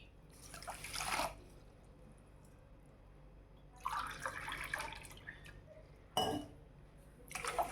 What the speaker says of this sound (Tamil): இந்த மாதிரி ஊத்திக்கோங்க சுகர் சிரப்க்கு